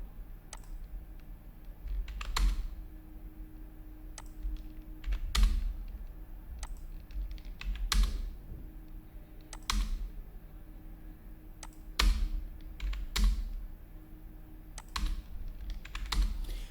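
Steady typing on a computer keyboard, close and clear, with rapid key clicks broken by periodic louder thumps, probably the spacebar, every couple of seconds, heard alone with no talk.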